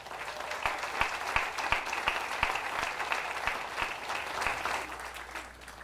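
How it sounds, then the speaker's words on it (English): Steady applause from a Veterans Day ceremony audience, a dense wash of clapping with some distinct sharper claps, holding at a moderate level for around six seconds. "Let's please give them another round of applause."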